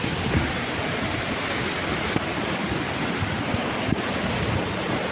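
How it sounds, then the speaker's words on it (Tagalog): Timangkuyob waterfall in Tarlac roars as a dense, continuous broadband rush of falling water, loud and steady with no voices over it. "Ayan yung falls."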